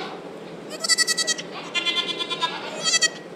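Baby goats and lambs bleat at the Minnesota Zoo farm, giving bursts of loud, close, wavering calls in quick succession, with a short pause midway and a final cluster of cries at the end.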